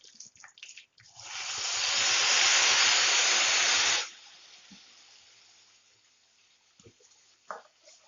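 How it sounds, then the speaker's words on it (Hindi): Bay leaf and ginger-garlic paste hit hot oil in a pan while cooking Pindi chole, giving a loud, broad sizzling hiss that swells for about three seconds, then drops to a faint simmer with small clinks. "अब इसमें तेज पत्ता डालेंगे, अदरक लहसुन का पेस्ट"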